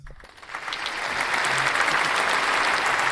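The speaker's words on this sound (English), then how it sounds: "Crowd goes wild." A crowd applause sound effect swells from quiet into dense, sustained clapping and cheering that stays loud and steady to the end, with no talking over it.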